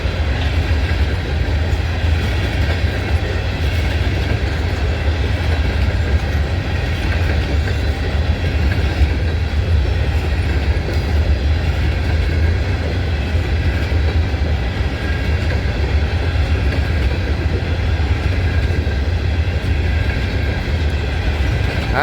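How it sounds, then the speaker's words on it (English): An empty coal train rumbles past steadily and loudly, its heavy rolling roar and faint wheel clatter continuing without a break. "That's an empty coal train going back to be loaded in Pennsylvania."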